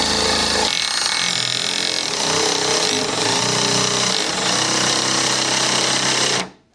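A power drill drives a screw into a wooden window jamb with a loud, steady, grinding whir that runs without a break, then stops abruptly.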